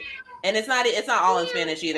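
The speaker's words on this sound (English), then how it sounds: "that's my cat Jupiter in the kitchen" Jupiter, a pet cat in a kitchen, lets out a drawn-out, wavering meow that overlaps a person speaking close by.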